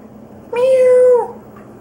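A single clear, drawn-out cat meow rises and falls in a quiet setting, close and fairly loud.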